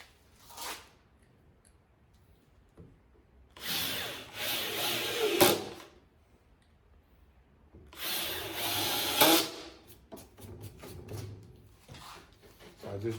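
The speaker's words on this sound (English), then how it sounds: "Like I said, I just countersink these." Power drill countersinking screw holes in the wood of a DIY outdoor patio chair, two loud sustained bursts of several seconds each with brief quiet gaps and lighter handling noise between.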